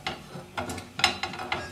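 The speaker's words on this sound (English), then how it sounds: "Now I'm going to turn the heat off, and we're going to stir in our cold diced butter." Cold diced butter stirred by hand into a reduced sauce in a saucepan off the heat, giving a close series of rhythmic scraping and clinking strokes roughly every quarter to half second, with no talking.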